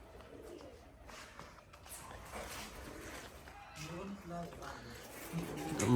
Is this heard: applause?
no